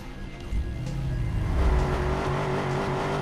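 Car engine in the Watch Dogs video game revving up loudly and steadily, pitch climbing as it accelerates over about three seconds, with a hint of tire noise.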